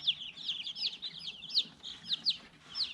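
Dominique baby chicks peeping in a brooder, a rapid run of high, thin cheeps overlapping close by, fairly soft, with no talking.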